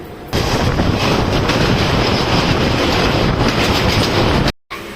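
A passenger train running on the tracks in India, a steady loud broadband rumble of wheels and carriages throughout, with a brief dropout near the end.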